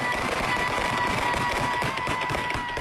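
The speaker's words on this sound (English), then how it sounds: "so many people fire guns into the air" Celebratory gunfire on New Year's Eve in Detroit, a dense, continuous crackle of overlapping pops and bangs from all around, loud and unbroken for the whole stretch with no talking.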